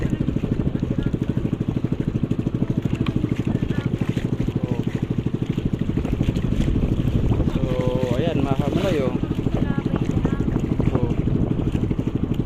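Steady rhythmic chugging of a motorboat engine running continuously through shallow low-tide water, with wind rushing over the microphone and someone speaking over it.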